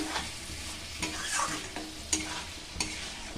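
Spice masala for a potato, pointed gourd and prawn curry sautés in a pan, a soft sizzle broken by a few stirring scrapes, close and fairly quiet, with no talk.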